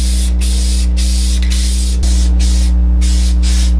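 Base coat being spray painted onto car bodywork: loud continuous hissing bursts from a spray gun, broken by short regular pauses, with a steady compressor hum underneath.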